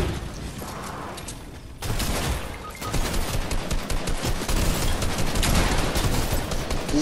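Gunfire in a Fortnite match: dense, rapid volleys of shots crackle almost continuously, rising after a short lull and staying loud and busy to the end.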